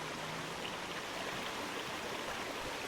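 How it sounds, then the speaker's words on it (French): A waterfall in the Farming Simulator 25 game world at Silverrun rushes as steady, dense, hissing water noise, even and moderately quiet, with no voices. "Nous voilà à la magnifique cascade."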